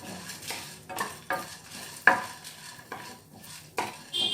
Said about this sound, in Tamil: இது நல்லா கொஞ்சம் வறுபடணும்.